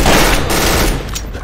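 Sniper gunfire in the video game Trouble in Terrorist Town, a loud, dense burst of shots close up that fades slightly toward the end, with no one speaking over it.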